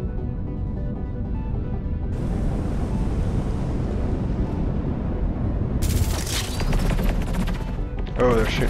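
Weapons fire from a space battle in the strategy game Endless Space 2, a dense continuous rumble of shooting and explosions with bright bursts late on, loud and unbroken, with a voice talking over parts of it.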